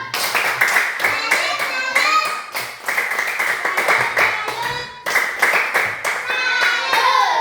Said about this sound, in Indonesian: Kita tepuk salut dulu karena kita sudah bisa paham.